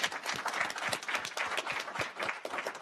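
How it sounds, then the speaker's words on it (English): Audience applause for a panel at a JPMorgan Chase community finance event in Wilmington: dense, continuous clapping from a crowd, close and steady throughout. "give them a round of applause"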